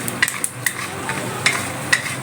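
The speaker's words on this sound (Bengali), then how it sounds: "এইভাবে আপনারা বিকালবেলায় বাদামটা ভেজে নিয়ে" Peanuts dry-frying in a pan, a soft steady sizzle punctuated by quick, sharp clinks of the spatula stirring against the metal.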